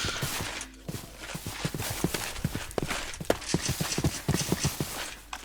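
Horse hooves clip-clop in a blocky sandbox video game, a dense irregular run of sharp clopping steps, loud and close, repeating throughout without talk.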